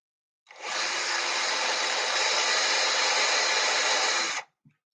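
Power drill boring holes through a homemade laptop stand, one loud continuous whining burst lasting about four seconds, close up, then stopping abruptly with a small knock after.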